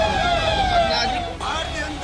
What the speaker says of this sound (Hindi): सायरन बजाती गाड़ियों में बैठकर चलने की आदत हो चुकी थी